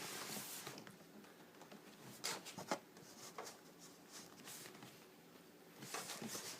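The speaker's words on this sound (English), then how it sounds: "So, once you make the decision, I place my cards down." Playing cards are set down one by one on a table in a quiet Chinese poker game, giving soft, close scrapes and light taps with small brushing sounds between them.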